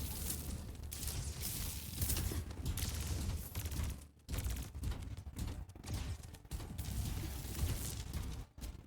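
Dense, continuous gunfire and a grenade blast from an Overwatch esports match, rapid overlapping shots crackling loudly and nearly nonstop, with only brief dips in the barrage.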